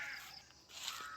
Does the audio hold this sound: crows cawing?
yes